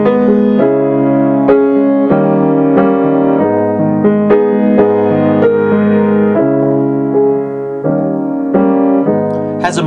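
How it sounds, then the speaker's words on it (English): Keyboard chords in a minor key ring out one after another at a steady walking pace, full and close, with a darker, weightier tone and no talking over them. "Here is the sound of a minor key."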